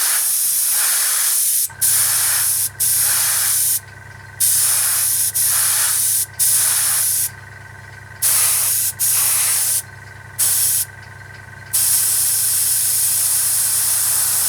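An airbrush sprays XF56 metallic grey paint onto a 1/32 scale Albatros D.V model aircraft, loud close hissing bursts of varied length, about a dozen, broken by brief gaps, over a steady compressor hum.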